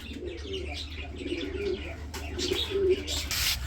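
Lahori pigeons cooing in repeated low, throaty rolls, close by over a steady low hum, with a few faint higher chirps in the background.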